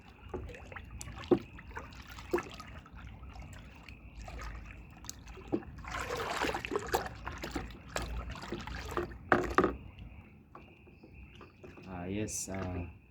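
A color and perfume mixture is poured for homemade all-purpose soap, giving a soft liquid trickle that swells in the middle among faint background noises.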